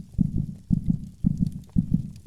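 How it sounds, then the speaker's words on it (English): A heartbeat loops on the main menu of the game Eat the Wounded, with low, thudding double beats repeating steadily about twice per second. It is muffled and bassy and plays alone, with no voices. "Got a heartbeat."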